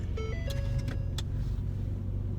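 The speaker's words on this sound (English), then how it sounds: "I don't know why my car is making noises." A car engine idles with a steady low rumble throughout, with a few brief electronic chimes and clicks near the start.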